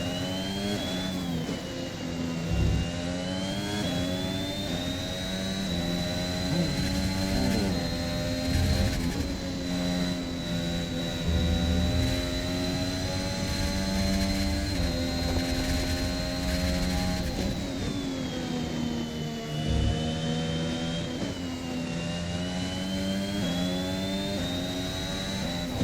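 A Formula 1 car engine in the F1 2021 video game screams at full throttle around a circuit, a loud continuous high-pitched whine that rises and dips briefly as the car lifts and re-accelerates, heard alone without talk.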